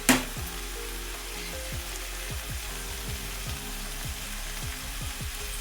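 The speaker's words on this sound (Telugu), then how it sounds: "ఇప్పుడు బాగా కలిపేసుకున్న తర్వాత ఉల్లికాడలు వేసేసుకున్నాం." Spring onions cook with tomatoes in a pan, a low, steady sizzle under a regular series of scraping stirring strokes, with a brief clatter at the very start.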